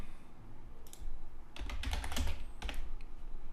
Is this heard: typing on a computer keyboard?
yes